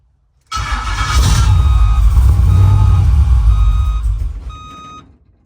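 A GM Performance LS376/525 crate engine in a 1987 El Camino fires up for the first time, a loud, steady roar that starts abruptly, holds for several seconds, then drops away as it shuts off, with a high electronic whine near the end.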